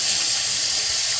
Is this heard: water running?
yes